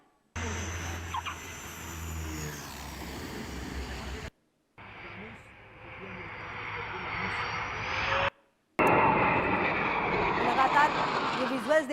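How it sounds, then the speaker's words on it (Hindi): A Rafale fighter jet lands on the Moran highway in Assam with a loud, roaring engine rush that carries across segments broken by abrupt cuts, rising to its strongest in the final stretch. "ये है देश का गर्व राफेल फाइटर जेट जो हमने आपको दिखाया, जो किसी रनवे पर नहीं बल्कि हाईवे पर उतरा है।"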